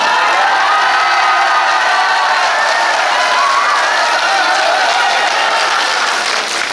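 A crowded hall at a Korean book launch celebration breaks into loud, dense applause and cheering after a congratulatory speech, a steady, full roar of clapping that holds for several seconds.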